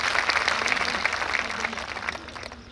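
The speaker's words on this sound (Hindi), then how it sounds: "एक बार और तालियां बजाइए" Audience applause at a Hindi comic poetry gathering, a thick wash of many hands clapping, fairly loud and sustained, easing slightly toward the end.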